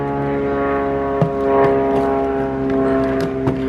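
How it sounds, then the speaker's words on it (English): Propeller airplane passing overhead, a steady droning hum with strong tonal harmonics that holds throughout, heard outdoors beside a backyard pool. "Sorry for the plane."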